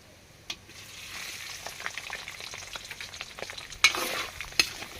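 Boiled pork intestines fry in a little oil for chicharon, making a soft, fairly faint sizzle that builds slightly, with a few sharp clinks of a utensil on the pan.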